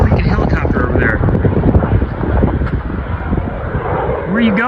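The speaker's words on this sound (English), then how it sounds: "They just sent a helicopter across with a military jet sound." A helicopter flying overhead gives off a roaring, jet-like engine noise, a broad loud rumble with a voice talking over it throughout.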